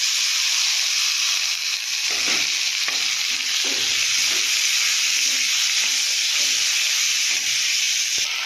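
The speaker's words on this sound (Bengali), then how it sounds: "এই যে পেঁয়াজ আর মশলা ভাজা হয়ে গেছে, এখানে এই হলুদ গুঁড়ো, লঙ্কার গুঁড়ো আর নুন, টমেটোটা দিয়ে দেবো" Onion and spices frying in a pan as turmeric, chilli powder, salt and tomato go in: a loud, steady sizzle that runs throughout, with soft stirring scrapes and no talking.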